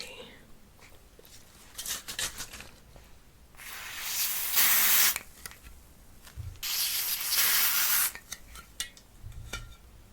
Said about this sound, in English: I can go ahead and apply my spray.